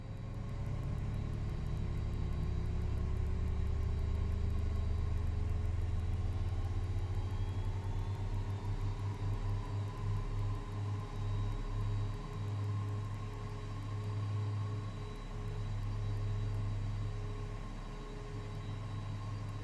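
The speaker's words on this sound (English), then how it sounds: "It's actually a pretty fast starting engine." A Lear 35A jet engine spools up during its start in Microsoft Flight Simulator 2024, giving a steady, loud low roar and hum with a faint rising whine that holds throughout, with no voices.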